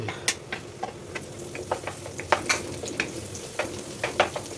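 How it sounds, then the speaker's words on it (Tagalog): Garlic sautéing in a pan, with a steady low sizzle broken by sharp, irregular clinks and scrapes of a utensil stirring against the pan, close up and with no talking. "At sunod natin, igisa yung bawang."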